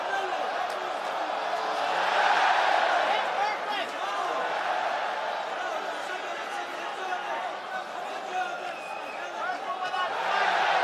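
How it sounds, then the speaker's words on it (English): A packed Coca-Cola Arena crowd roars steadily through a PFL MMA bout between Usman Nurmagomedov and Paul Hughes in Dubai, a dense continuous swell of cheering and chatter that rises and falls slightly over about eleven seconds. "The Coca-Cola Arena crowd loving the work from Usman Nurmagomedov."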